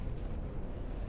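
A battleship fires a broadside in a naval warfare game set in 1940 Germany, a deep rumbling roar of heavy guns filling the short moment with low-frequency thunder.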